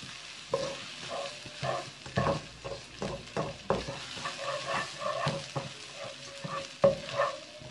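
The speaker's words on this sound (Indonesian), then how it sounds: "Diaduk-aduk ya supaya matangnya merata." Mac and cheese stirred in a pan with a spoon, a near, rhythmic run of scraping strokes and soft sizzling that pulses steadily on its own, with no voices over it.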